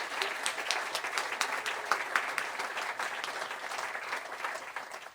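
A crowd at a jazz awards ceremony applauds steadily, an even wash of many hands clapping at moderate distance throughout.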